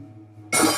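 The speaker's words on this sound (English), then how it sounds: "breaking a glass with a book" Glass shattered with a book in the game Amnesia: a quiet low hum gives way to a single sudden bright crash that rings briefly and fades, heard alone.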